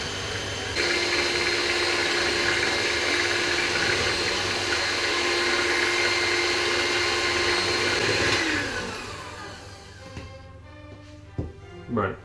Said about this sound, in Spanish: Ahora lo batimos hasta que quede una masa.